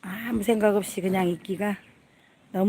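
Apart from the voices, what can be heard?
No everyday noises stand out.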